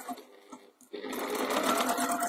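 A sewing machine stitches one border of a pie crust cushion with lace sandwiched inside the seam. A few light taps come first, then a continuous, close, fairly loud whirring run of stitching.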